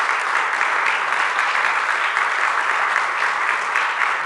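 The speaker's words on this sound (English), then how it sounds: "Give yourselves a round of applause for that" A crowd at a press conference on affordable housing expansion applauds. The clapping is loud and dense and holds steady from start to finish, with no voices over it.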